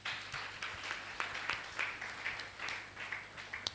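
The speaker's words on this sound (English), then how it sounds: "please help me again, clap for the organizers." An audience clapping for the organizers at a school event, a light, scattered round of applause from a modest crowd, fairly quiet and steady throughout.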